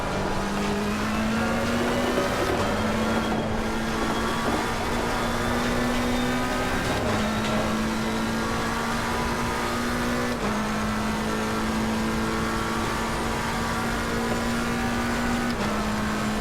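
A McLaren 720S GT3 race car engine in the Assetto Corsa Competizione racing game drones loudly and steadily, holding a sustained note with brief shifts in pitch as gears change, with no talking over it.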